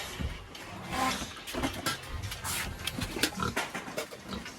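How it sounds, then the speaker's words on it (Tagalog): A pig on a farm grunts and oinks repeatedly in short irregular bursts, close by and moderately loud, with no talk over it. "tingnan natin mga kabayan yung baboy na yung Manay Bob dito."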